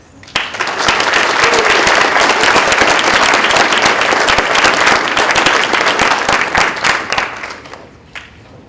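An audience at a lecture on justice applauds to welcome a speaker: dense, steady clapping swells in quickly, holds for about seven seconds, then thins and fades out.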